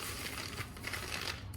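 Dry straw is pulled out of a knocked-over plant pot during a Euphorbia horrida transplant, a faint, steady crinkling and rustling heard up close for a moment.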